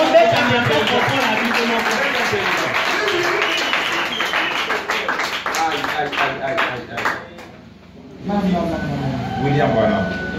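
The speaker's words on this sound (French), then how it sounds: "Applaudissez pour vous-même." A church congregation claps in a dense patter of hand claps under a preacher's voice, the applause fading out before a short pause and more speech.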